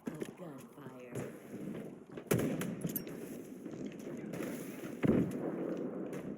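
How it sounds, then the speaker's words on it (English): Grenades blast in Halo Infinite during an Oddball match: two sharp, loud explosive bursts land a few seconds apart amid ongoing gunfire-like game noise, with a voice talking over the action. "That was a good nade."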